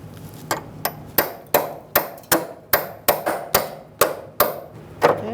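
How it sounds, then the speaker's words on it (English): A hammer strikes a line wrench on a 2014-2018 Subaru Forester rear brake line, a dozen sharp metallic taps in a steady rhythm, close and loud. "hammer to kind of shock it loose."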